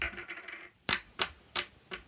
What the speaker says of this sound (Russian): Круто кликает, тянется. И очень хорошо хрустит.